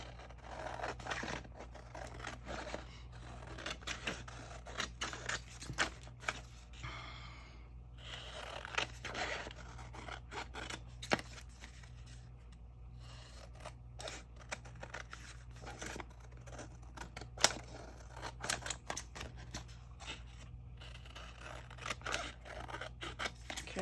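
Scissors snip steadily through paper while cutting out layered craft tags, a close run of crisp cuts and rustles mixed with occasional scraping and handling noises against a low steady background hum.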